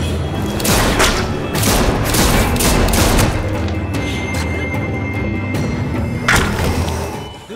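Dense gunfire in The Walking Dead video game: rapid overlapping shots and booming bursts, loud and close, continuous across the stretch with a final heavy blast near the end.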